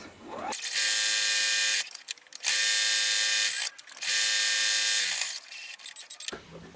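A sewing machine stitching a pocket onto a tote bag made from shirt scraps. Three loud, close bursts of fast whirring stitching run about a second each, separated by short pauses with faint handling clicks.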